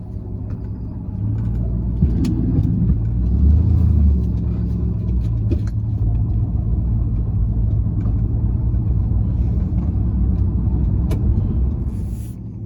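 A car fitted with air suspension driving around the block, heard from inside as a steady low engine and road rumble that holds throughout, with faint occasional clicks and no talking.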